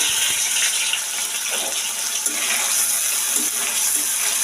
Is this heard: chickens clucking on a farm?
no